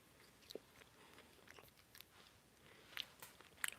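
Fresh home-grown vegetables are bitten and chewed, giving faint, close crunches scattered over a few seconds in a quiet room.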